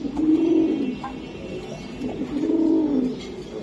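Almond fancy pigeons coo close by, two rounded, throaty coos in succession with a brief pause between, clear and alone.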